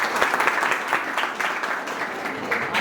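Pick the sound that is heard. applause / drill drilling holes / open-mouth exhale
applause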